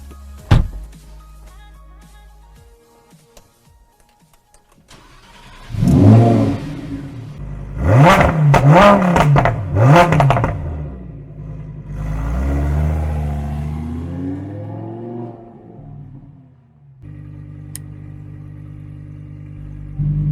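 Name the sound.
Lamborghini Huracan EVO 5.2 litre V10 engine accelerating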